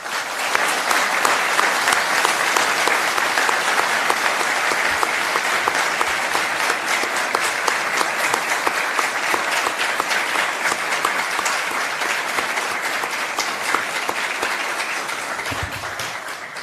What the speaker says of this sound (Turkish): bu güçlü alkışlar ne kadar güzel işler yaptığınızın ve sevildiğinizin delili